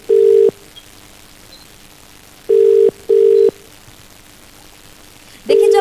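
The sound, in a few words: telephone dialing and ringing tone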